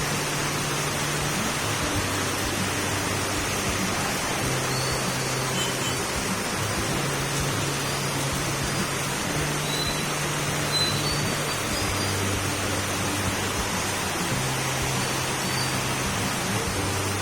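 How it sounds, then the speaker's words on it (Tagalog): Heavy rain from Typhoon Hanna pours down steadily, a dense, loud, unbroken hiss with a low rumble underneath, going on throughout without voices. "Oh, lakas talaga ng ulan. Naririnig niyo po ba yan?"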